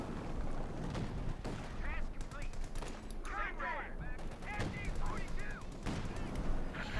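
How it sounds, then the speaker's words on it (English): In a Company of Heroes 2 battle, an M36 Jackson tank fires amid repeated cannon and gunfire bursts, with other battle noise in the mix and a commentator speaking over the action. "M36 Jackson tank shot here for Orangepest"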